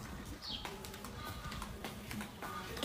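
A small bird calls outdoors at a building site, giving a faint, brief descending chirp and a few soft scattered notes over low background noise.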